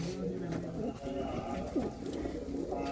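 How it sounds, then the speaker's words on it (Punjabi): Pigeons of fancy breeds kept in a loft coo softly in low, rolling murmurs, close by and continuous beneath a steady background hum. "ਦੇਖੋ ਬਈ ਬਹੁਤ ਹੀ ਸ਼ਾਨਦਾਰ ਕਬੂਤਰ ਬਾਈ ਹੁਣਾਂ ਦੇ"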